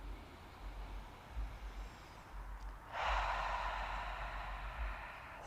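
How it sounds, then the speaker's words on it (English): A person takes one deep, slow inhale through the nose during a yoga breathing exercise, a sustained airy hiss lasting a couple of seconds after a quiet pause. "And take a deep inhale."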